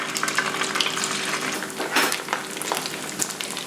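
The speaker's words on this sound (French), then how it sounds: "il ne nous reste plus qu'à plonger les kébés dans de l'huile de tournesol bien chaude" Stuffed kebbehs deep-fry in hot sunflower oil at about 180 degrees over medium heat, giving a bubbling, spattering sizzle with a few scraping stirs and light clinks.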